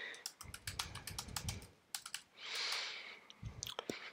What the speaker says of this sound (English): Click into the text editor and type some text for a title.